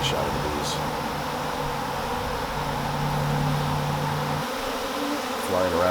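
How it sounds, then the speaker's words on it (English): Honey bees fly around strong hives, a loud, steady buzzing drone close by that carries on throughout, with people talking faintly over it. "That's a nice shot of the bees."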